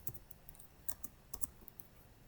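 Quiet, scattered taps of a computer keyboard as a book title is typed, a few sharp key clicks spaced irregularly over faint background hiss.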